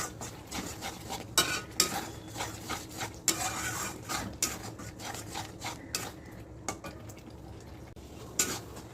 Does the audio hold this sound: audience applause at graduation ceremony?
no